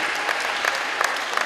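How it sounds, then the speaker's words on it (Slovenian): Brief burst of audience applause, steady dense clapping from a group, fairly close and alone without voices. "Dobro, bravo, en aplavz."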